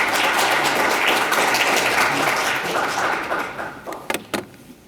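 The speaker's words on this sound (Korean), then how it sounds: "박수로 맞이해 주시기 바랍니다." Audience at a think-tank debate forum clapping to welcome an honorary sociology professor to the stage; loud, close, dense applause that thins out near the end into a few scattered final claps.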